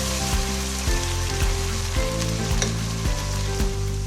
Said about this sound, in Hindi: 1 से 2 मिनट भूनेंगे।